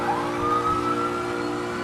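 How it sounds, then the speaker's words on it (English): Police siren in the Assetto Corsa driving game, a steady wailing tone that rises slightly, loud and continuous with an engine rumble underneath, no talking. "When it drops in a minute with full bore police siren"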